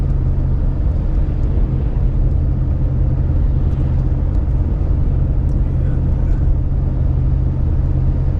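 From inside a car on a snowy winter drive into Ellsworth, Maine, a steady loud low rumble of engine and road noise continues unbroken throughout.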